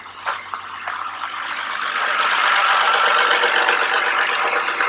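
A BMW engine with a PCV/CCV fault idles up close, a few short knocks at first, then a steady rising whine and squeal settling into a loud, continuous drone.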